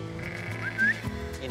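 Sheep bleat close by while a herding dog rounds them into a circle, a short wavering call rising over low steady background noise.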